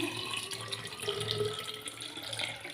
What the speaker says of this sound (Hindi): जिस जग में आपने इसको सर्व करना है उसमें सबसे पहले हम डालेंगे 3 कप ठंडा पानी।